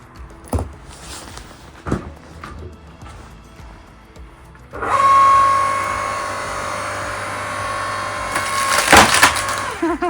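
Firewood splits and shatters, with a couple of sharp cracks followed by a sustained loud crunching, splintering roar and a final burst of breaking wood, close and with no voices.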